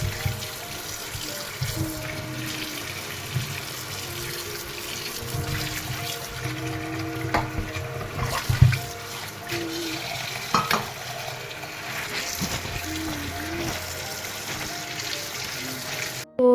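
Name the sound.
tap water washing guava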